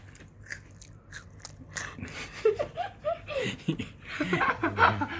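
Crisp crunching bites into a Thai street-food snack, with chewing noises and soft vocal murmurs and laughter mixed in, close up.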